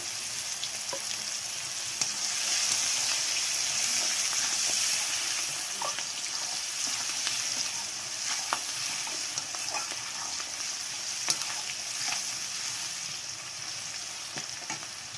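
Onion and green chili sizzle and fry steadily in hot oil for a cauliflower dish, with bursts of stirring and scraping, close and fairly loud, no voices.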